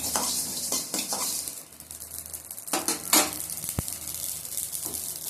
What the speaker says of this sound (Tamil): நல்லா பொரிஞ்ச உடனே எடுத்துருங்க. அது இது வந்து பொரியும்.